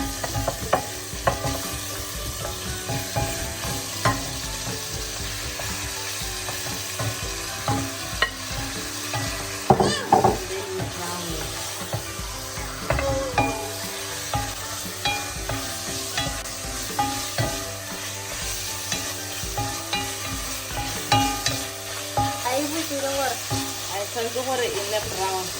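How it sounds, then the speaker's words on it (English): Beef fries in a pan for a farm dinner party, sizzling and crackling continuously up close, with repeated scraping and clattering as it is stirred. "Now it's time for the beef to sizzle."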